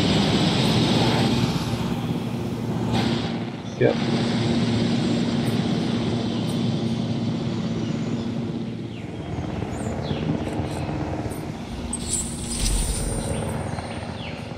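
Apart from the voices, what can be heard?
helicopter in the video game Jurassic Park Evolution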